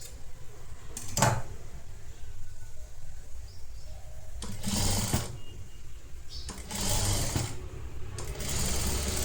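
A sewing machine stitches netted blouse fabric in short bursts, about four runs of rapid mechanical whirring separated by brief pauses, close and steady with no talking.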